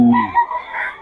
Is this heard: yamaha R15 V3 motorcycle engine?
no